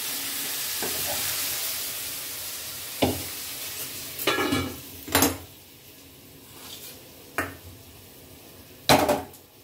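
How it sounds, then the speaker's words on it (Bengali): Prawns frying in mustard oil in a kadai for a Malabar spinach prawn curry, with a soft steady sizzle under intermittent clanks and scrapes of a utensil stirring against the pan. "এই পুঁই শাকে চিংড়ি মাছটা একটু ভেজে দেবো"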